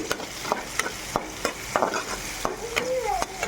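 Spices fry in a pan for a brinjal and tomato curry, with steady close sizzling broken by sharp, regular scrapes of a spatula stirring about twice a second.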